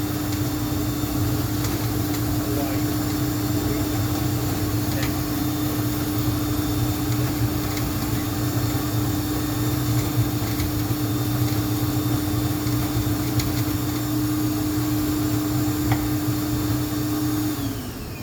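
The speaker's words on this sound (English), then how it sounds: "you want to understand and hear the machine, you hear the way the brushes are moving" A Juma 110 escalator cleaning machine runs steadily, its vacuum motor whining with a constant hum while rotating brushes churn underneath, close and loud throughout.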